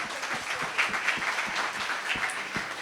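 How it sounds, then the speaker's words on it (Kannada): An audience at a Kannada church sermon gives a short round of applause, dense steady clapping at a moderate distance throughout, fairly faint and without talk. "ಚಪ್ಪಾಳೆ ಬರಲಿ."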